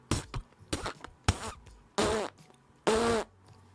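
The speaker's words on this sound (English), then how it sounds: "It'll do the little fart thing noise here." Fart sound effects played as a stream donation alert, a string of short sputtering bursts followed by two longer, louder, raspy blasts, each standing clearly alone against quiet.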